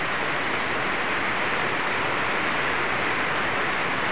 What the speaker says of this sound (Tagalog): Ngayon ulan na naman.